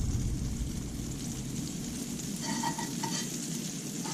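Food sautéing in butter in a pan while being moved around gives a quiet, steady, rain-like sizzle, with a few light tapping sounds from the utensil toward the end.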